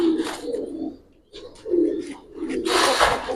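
Giribaz pigeons at a loft give a series of soft, throaty coos close by, rising and falling in short bursts with a brief pause midway.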